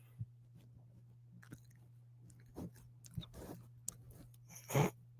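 A puppy chews on something in an office, making soft, irregular crunching and gnawing sounds that are close but quiet, over a steady low electrical hum.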